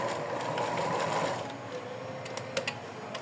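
A sewing machine runs a short burst stitching elastic onto doll clothes, a fast whirring hum that fades out into a few small clicks and taps at the end.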